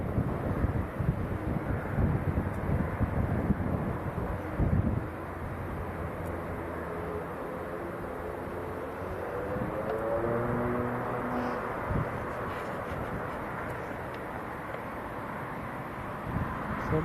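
An Aer Lingus airliner taxis at Leeds Bradford Airport, a distant low engine rumble with a rising whine, heard outdoors through gusty wind buffeting the microphone.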